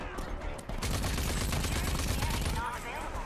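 Rapid bursts of gunfire crackle continuously with dense, overlapping shots, fairly loud throughout, with a voice shouting briefly underneath.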